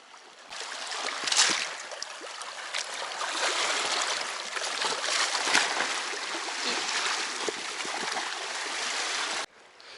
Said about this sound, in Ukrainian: Зараз наберу водички.